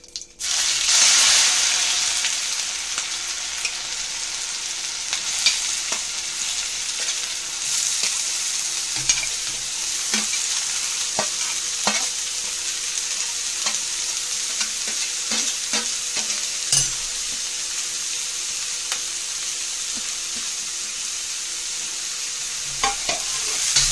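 Cumin and chopped onion fry over a full gas flame, a loud hissing sizzle that flares at the start then settles, with frequent scraping stirs and small clicks of the spoon throughout.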